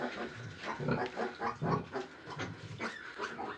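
Vietnamese piglets squeal and grunt in a rapid, restless string of short, shrill bursts, close by and fairly loud, with no talking.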